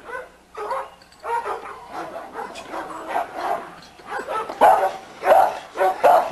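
Several American pit bull terriers in a kennel yard bark repeatedly in short, sharp bursts at close to moderate distance, with some yips and whimpers mixed in and no talk.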